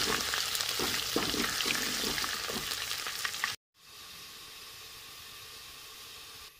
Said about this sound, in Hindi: दो मिनट हो गए हैं, लहसुन भी हमारा भून गया